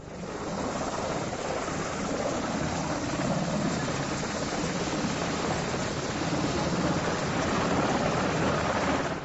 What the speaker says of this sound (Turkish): helikoptere bindirilen Emine Yiğit, helikopterle eski polis özel harekat şube müdürlüğü bahçesinde bulunan helikopter pistine getirildi.